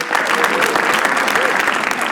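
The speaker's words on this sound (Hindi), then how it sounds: "एक बार होस्ट आशीष सोलंकी के लिए ताली बजाओ सब लोग।" A live audience applauds steadily for host Ashish Solanki at a comedy roast show, a dense continuous wash of clapping with crowd noise that stays loud throughout.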